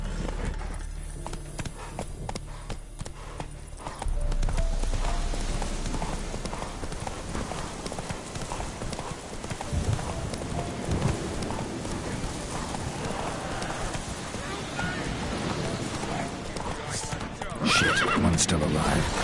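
Roach, the horse in The Witcher 3: Wild Hunt, gallops with rapid rhythmic hoofbeats and lets out a neigh, amid game sound effects and a player talking over it.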